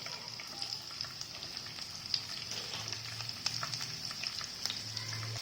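Capsicum and onion fry in a little oil in a kadhai, giving a steady, close sizzle with light stirring scrapes throughout.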